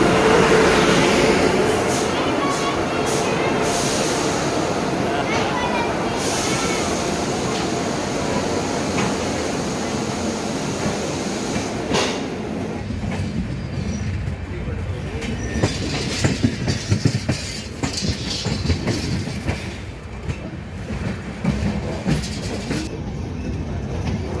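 A local train pulls into Bhatni Junction station with a loud, continuous rumble and rushing roar. Rhythmic clickety-clack from the wheels grows clearer as it slows, and faint voices can be heard in the background.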